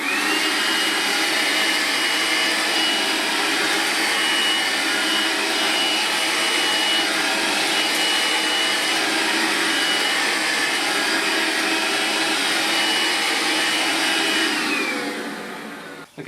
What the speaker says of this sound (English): I'm going to go over it with the 18 volts, see if it can suck it up